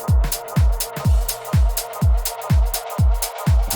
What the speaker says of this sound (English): can hear all those effects rising up now.